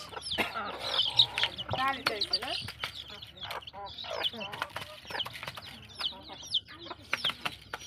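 Chickens cluck and a rooster calls in a Bangladeshi village, with people talking close by over the repeated clucks and the scattered bird noise.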